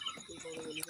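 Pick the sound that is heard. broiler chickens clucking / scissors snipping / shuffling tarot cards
broiler chickens clucking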